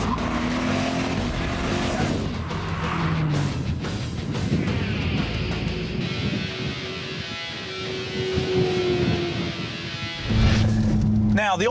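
A twin-turbo C6 Corvette accelerates hard from idle with its turbos spooling, a loud sustained engine note rising in pitch over several seconds. A voice talks over it throughout, and the pitch jumps again near the end.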